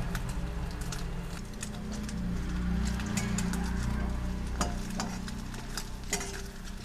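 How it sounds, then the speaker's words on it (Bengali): Egg omelette frying in a pan, a steady close sizzle under repeated scraping and tapping as a spatula folds and turns it, with a few sharper clicks. "খুন্তির সাহায্যে এইভাবে পাট পাট করে আমি দেব। এইভাবে পাট করে আমি ভেজে নেব।"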